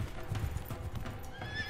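Wild mustang horses on open plains, with a dense rumble of galloping hooves and a faint whinny rising near the end, steady and fairly distant throughout the short stretch.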